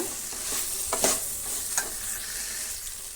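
Okra masala fries in a pan with a steady, close sizzle while a utensil stirs it, leaving a few sharper scraping strokes and no voice over it.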